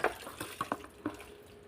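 Water from a tap splashing faintly into a container, with soft, irregular drips and gurgles and no voices.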